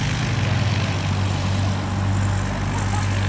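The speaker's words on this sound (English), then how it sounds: "Our little Sophie is actually driving that plane." A light propeller training aircraft drones steadily in flight over Stapleford Aerodrome, heard from inside the cabin as a loud, constant engine hum with a low rumble and no talking.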